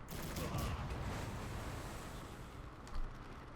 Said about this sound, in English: Give them the other's broadside.